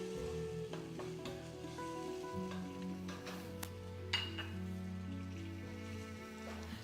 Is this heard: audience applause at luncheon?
no